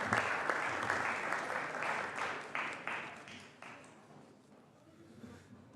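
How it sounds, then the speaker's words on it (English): Senators on a legislative floor give visitors in the balcony a round of applause, a full burst of clapping in a large chamber that gradually dies away to scattered claps. "I would love for them to stand and for us to greet them with a round of applause."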